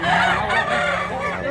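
A bullstag gamecock crows loudly and close, one sustained strained call filling the moment, with slight background noise.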